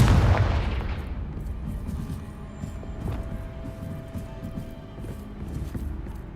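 A Confringo blasting spell from the Hogwarts Legacy video game detonates with a loud, near boom at the start, then rumbles and crackles away into a lower, busy background of scattered pops and thuds.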